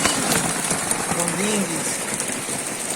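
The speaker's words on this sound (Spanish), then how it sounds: "Es una tormenta de granizo." Hail patters densely and steadily on a boat moored in winter in the Algarve, a constant hissing rattle of icy pellets, with a person briefly speaking over it.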